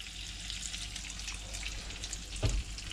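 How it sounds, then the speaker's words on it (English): Steady crackling sizzle of redfin perch frying in a hot pan, with a brief low clunk near the end. "Sizzling away nicely."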